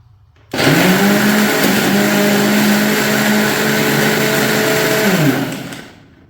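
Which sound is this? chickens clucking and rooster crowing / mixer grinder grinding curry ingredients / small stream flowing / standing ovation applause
mixer grinder grinding curry ingredients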